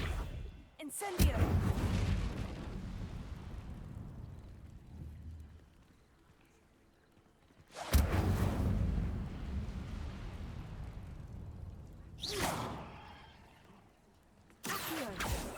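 Incendio fire spells cast in Hogwarts Legacy, three loud whooshing, crackling bursts that flare up suddenly and then fade out over several seconds.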